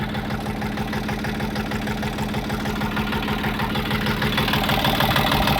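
Close and alone, a warming Kentavr tractor engine idles with a steady rapid chug, its low firing beat unbroken and slightly swelling toward the end.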